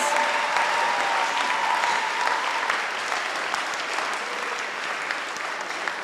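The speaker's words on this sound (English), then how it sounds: "let's have a round of applause and samjhakare for our graduating class of 2026" A large audience at a Grade 12 graduation ceremony applauds steadily and loudly for several seconds, a dense continuous wash of clapping.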